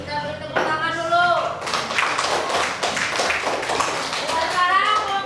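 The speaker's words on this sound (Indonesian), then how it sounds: "Kita beri tepuk tangan dulu." A class of children claps together in a burst of applause that follows a teacher's voice, the clapping dense and close with kids chattering and voices over it.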